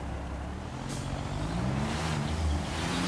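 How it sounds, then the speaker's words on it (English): A dump truck in Construction Simulator rumbles steadily with a low engine drone and a rising tonal whine, loud and continuous with no talk. "when you're in the vehicles, like your truck, your dump truck,"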